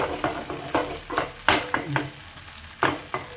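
Bitter gourd frying in a pan, with a soft sizzle under repeated sharp scraping and stirring clicks at an uneven rhythm, close by and without speech.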